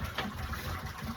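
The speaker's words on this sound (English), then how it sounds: "Filling up their water dish now." Water pouring steadily into an animal water dish on a farm in muddy early spring, a soft continuous splashing gush.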